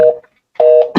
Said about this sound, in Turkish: Şimdi yığacağım yenə.